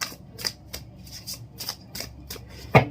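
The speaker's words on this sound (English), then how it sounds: "Cards are sticking together, so I'm gonna shuffle it." A deck of tarot cards being shuffled by hand in a quiet room, a run of soft riffling bursts at an uneven rhythm, close by, ending in a sharper slap as the cards settle.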